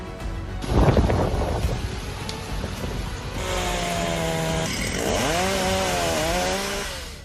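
Chainsaw clearing trees brought down by Cyclone Remal in West Bengal, its engine droning and rising in pitch over a loud background of stormy wind and rain.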